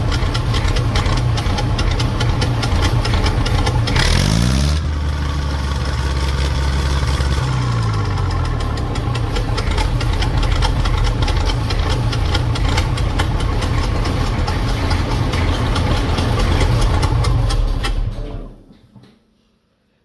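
A heavy County tractor engine with a misfiring valve idles loudly nearby with a rough, uneven chuffing beat, then cuts off and dies away at the end.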